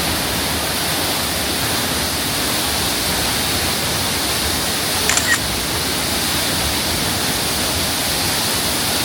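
A waterfall on Lombok island, Indonesia roars as a steady, loud broadband wash throughout, with a couple of brief camera shutter clicks midway and no talking.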